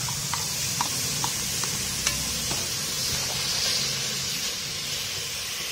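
Carrot, tomato and green chili fry in a pan for an egg and vermicelli biryani, giving a steady close sizzle with a soft hiss. Regular scraping clicks of stirring sound every half second or so.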